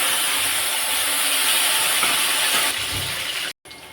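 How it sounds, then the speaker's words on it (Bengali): Pointed gourd frying in hot oil in a home kitchen, a loud continuous hiss and crackle that fills the whole stretch and breaks off briefly near the end. "ওই তেলেতে পটলগুলো ভেজে নেব।"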